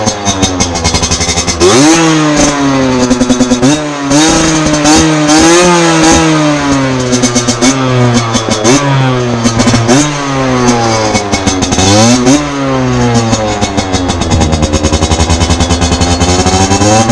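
A 50cc scooter fitted with an aftermarket exhaust revs repeatedly, the engine climbing and dropping in pitch through several loud, close bursts with a buzzing two-stroke rasp and no talk.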